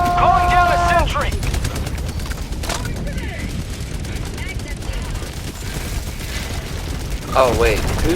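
Sentry turret gunfire in the video game Helldivers 2 rattles in rapid, sustained bursts amid game effects, with a voice talking over the opening seconds and again near the end.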